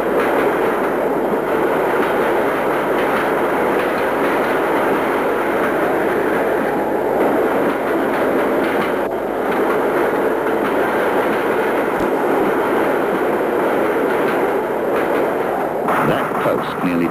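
Loud, continuous roar of a train rushing along the rails, a dense rumble with faint rhythmic clatter throughout.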